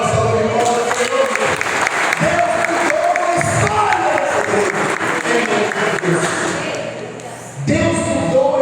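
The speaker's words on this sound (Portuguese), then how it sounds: "dá uma salva de palmas ao Senhor" A church congregation claps and cheers loudly, a dense burst of applause with shouts that fades briefly near the end before swelling again, with a voice speaking over it.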